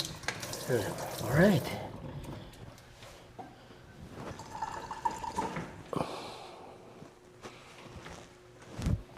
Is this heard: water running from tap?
yes